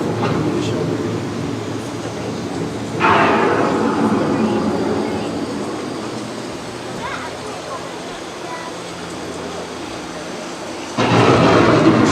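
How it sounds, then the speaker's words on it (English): Thunderstorm effect on Epcot's The Land boat ride: deep rolling rumbles with two sudden loud cracks of thunder, one early and one at the end, under a calm narrator speaking throughout. "The approaching storm may seem violent and destructive to us, but to nature, it's a new beginning in the cycle of life"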